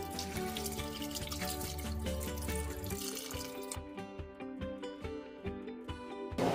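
Water runs steadily into a pot of tuna with vinegar and oyster sauce for a few seconds, a continuous splashing pour that stops abruptly, followed by light dripping and clinking.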